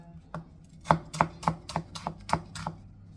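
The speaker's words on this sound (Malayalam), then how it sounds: "ഞാൻ എടുത്തു വെച്ച ബാക്കിയുണ്ടായിരുന്ന വലിയുള്ളിയും കൂടെ ഒന്ന് കട്ട് ചെയ്യാണ്" A knife chops onion on a cutting board, about nine crisp, evenly spaced strikes, close and clear in a quiet kitchen with no talking.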